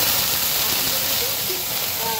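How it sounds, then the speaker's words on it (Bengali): Hot oil catches fire across a heated frying pan on a stove, giving a continuous, fairly loud, rushing hiss with faint tonal traces in the background. "তেলটা দেওয়ার পরে দেখা যায় যে একদম ছিটছিট করে পুরো ফ্রাই প্যানটা ধরে আগুন ধরে যায়।"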